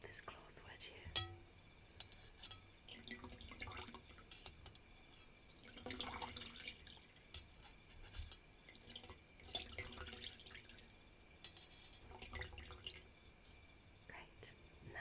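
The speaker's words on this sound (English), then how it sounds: "just get this cloth wet here" A cloth being wetted with water, soft trickles and scattered drips close up and quiet, heard under gentle whispering.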